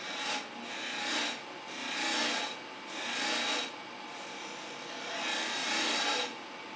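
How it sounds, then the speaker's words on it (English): Milk pear wood spindle being turned on a lathe, a steady rasping cut swelling and fading in repeated passes about every second, close and fairly loud, with no talk. "Very little tear out on this. Nice, good bit of spindle turning"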